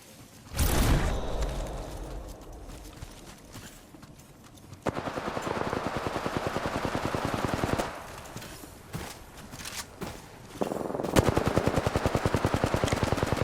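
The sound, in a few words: gunfire from a gun in the video game Apex Legends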